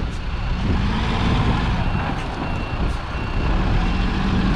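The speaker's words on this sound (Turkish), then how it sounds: "zaten patinaj çekiyorum, oturacaksın şimdi" A 30-ton drilling rig truck struggles in wet, soft mud, its wheels spinning with a steady loud engine roar and churning drone throughout, with faint speech-like sounds mixed in.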